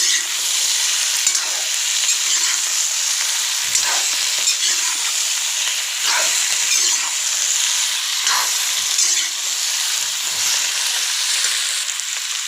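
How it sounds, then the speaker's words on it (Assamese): Onions and meat fry in a pan with a constant, close, hissing sizzle, broken at regular intervals by the scrape and clatter of stirring. "অলপ পিঁয়াজ ৰঙচুৱা কৰি ল'লোঁ"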